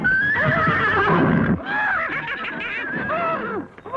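A horse whinnies loudly and repeatedly at close range, in a comedy film scene, with shrill rising and falling neighs filling the whole moment.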